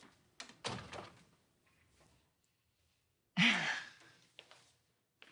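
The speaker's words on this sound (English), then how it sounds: "Close the door." A door swings shut with a single firm thud in a quiet indoor room, following a soft breathy sound and a few faint movements.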